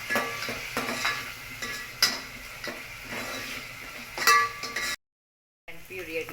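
Onions sautéing in oil in a pan for pav bhaji, a steady close sizzle broken by frequent spoon stirs and scrapes, then a brief silence before the sizzling returns.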